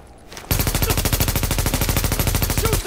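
Rapid automatic gunfire in the video game Tom Clancy's The Division, a loud, close, steady stream of shots following a quieter moment.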